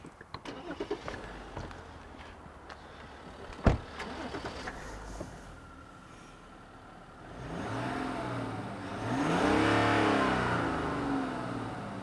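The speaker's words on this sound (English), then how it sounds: "Let me just start the engine," A 3-liter inline diesel engine in a 2021 Genesis GV80 SUV cranks and starts after a few clicks and a sharp knock, then settles into a steady idle that swells briefly as it revs, close and alone.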